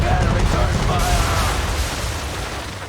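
Ship cannons returning fire during a naval ambush in a video game, a heavy rolling barrage of booms that gradually fades, with shouted voices over it.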